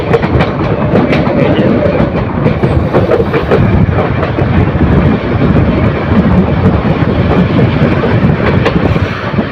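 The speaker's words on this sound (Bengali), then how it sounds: "ট্রেনটি ভৈরব বাজার জংশনের দুই নম্বর প্ল্যাটফর্মে প্রবেশ করেছে" The Mohanagar Provati Express, a Dhaka to Chattogram intercity train, rolls into platform two at Bhairab Bazar Junction with a loud, continuous, close rumble of wheels and carriages that never lets up.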